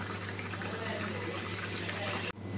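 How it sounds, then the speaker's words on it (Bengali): A pot of Bengali fish curry with katla, ridge gourd and potato simmers at a low, steady bubbling hum close by, then cuts off abruptly near the end, leaving only faint room noise. "ঝোলটা ফুটে উঠেছে"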